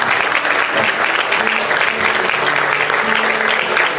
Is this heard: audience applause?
yes